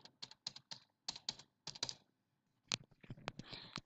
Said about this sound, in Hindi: देन यहाँ पर टाइप करते हैं